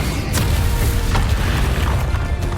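A Bombarda spell explosion in Hogwarts Legacy, a loud rumbling boom with sharp cracks layered over a dense, continuous roar.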